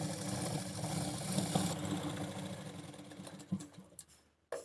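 A sewing machine runs steadily while stitching a blouse, a continuous close whirring hum that slows, stutters and stops near the end with a brief restart.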